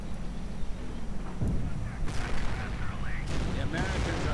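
Battle din from a WWII strategy game, with repeated booming explosions and bursts of gunfire rolling under a continuous rumbling backdrop, loud and dense, with no voice heard.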